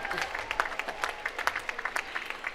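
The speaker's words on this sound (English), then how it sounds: "you should clap for yourselves" Graduates at the University of Virginia final exercises clap in a dense, lively burst of applause, many hands at once, crisp and close with scattered louder claps.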